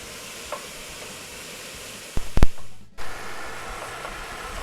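Ground taco meat cooks in a spice mixture in a pan on the stove, giving a steady close sizzle broken midway by a few sharp knocks of a utensil against the pan.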